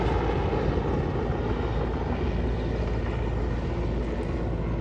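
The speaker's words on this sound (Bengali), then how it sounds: "আশেপাশে অনেক হেলিকপ্টার যাইতেছে, শব্দ পাওয়া যাইতেছে।" A steady, loud engine roar of several helicopters passing overhead drones on without a break, with no voices.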